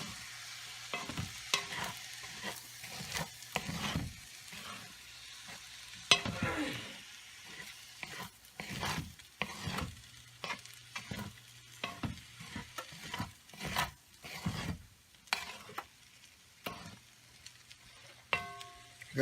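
Fried rice stir-fried in a pan, with soft green giant vegetables added, gives a steady sizzle broken by repeated scraping and tossing strokes, close and fairly quiet, with no talk.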